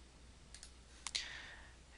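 A couple of light computer mouse clicks, close and sharp, with a brief soft tick before them in an otherwise quiet room.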